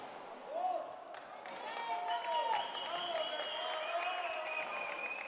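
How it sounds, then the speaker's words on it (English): Ecuadorian fans cheer and clap for their player at a junior girls' under-12 racquetball world championship match, a crowd swell with whistles and shouts rising after a ball strike, people chattering throughout. "The fans from Ecuador cheering her on."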